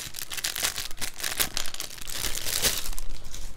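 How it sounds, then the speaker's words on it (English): Crinkling of a plastic bag holding Lego pieces, handled close up in short irregular rustles and crackles that continue without pause. "Check the plastic bag."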